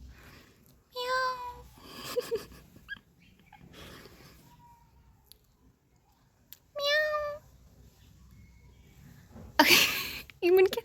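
A cat meows a few times, high and drawn out, separated by quiet stretches, with a person speaking softly in between.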